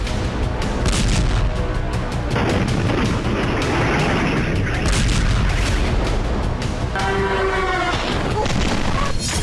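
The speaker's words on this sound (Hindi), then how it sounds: "यूक्रेनी सेना रूसी धरती पर नॉनस्टॉप विस्फोट कर रही है।" Bombing explosions in Russia during the Russia-Ukraine war, a loud, sustained barrage of deep booms and rumbling blasts that rolls on continuously throughout.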